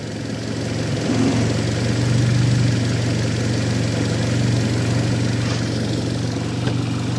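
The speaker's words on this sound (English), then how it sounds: "That idle does sound a bit crap" An Audi S1 Quattro engine idles with a loud, rumbling exhaust drone, rough-sounding, steady and close for the whole stretch.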